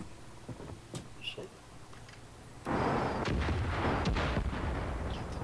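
In a video game, scattered shots and pops give way to a sudden, loud, sustained barrage of gunfire and explosions that fills the rest of the stretch with dense, rumbling noise.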